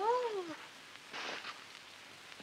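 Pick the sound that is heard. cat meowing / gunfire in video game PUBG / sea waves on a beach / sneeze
cat meowing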